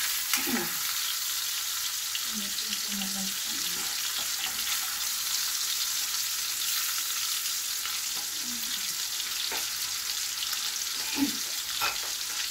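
Pork pieces frying in a pan for pinakbet, a steady broad hiss of sizzling fat throughout, with a few soft utensil scrapes and stirring sounds here and there and no talking.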